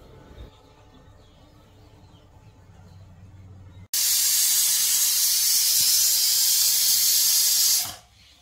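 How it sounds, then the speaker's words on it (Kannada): A pressure cooker holding lentils, tomato and onion lets out a loud, steady hissing whistle of steam that starts abruptly partway through, runs for about four seconds, then cuts off, after a quieter stretch of kitchen background. "ಟೊಮೆಟೊ ಹಾಗೆ ಕಟ್ ಮಾಡಿ ಇಟ್ಕೊಂಡಿರೋ ತರಕಾರಿ ಹಾಗೆ ಈರುಳ್ಳಿ ಇದಿಷ್ಟನ್ನು ಹಾಕೊಂಡು ವಿಷಲ್ ತಗೋತೀನಿ"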